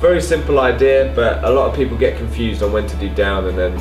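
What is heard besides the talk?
No everyday noise stands out behind the speech.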